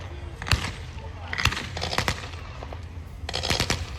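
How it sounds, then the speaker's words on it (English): A Lewis gun fires during a battle reenactment at an outdoor tank show, delivering short bursts of sharp, rattling shots spaced a second or so apart, heard from a moderate distance amid crowd and background noise. "There goes the Lewis gun in number 2."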